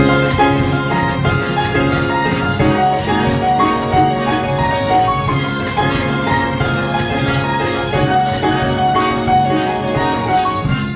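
Full band music plays continuously at a loud level, with trumpets carrying a melody over dense accompaniment.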